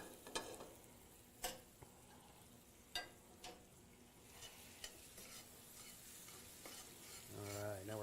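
A rum banana sauce for Bananas Foster pancakes sizzles steadily in a pan, with a spoon or spatula clicking against the metal several times and a brief rising bubbling near the end, heard close and without voices.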